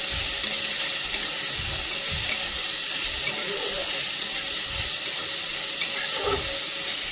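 Steady sizzling and hissing of frying in a pan after a medium tomato is added to ginger and garlic for veg kofta curry, with occasional stirring scrapes, close and continuous.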